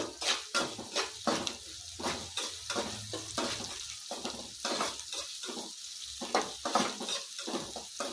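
Lengthwise-sliced onion and capsicum frying in oil with ginger-garlic, giving a steady soft sizzle broken by repeated scraping strokes of a spoon against the pan, close and moderately loud with no talking.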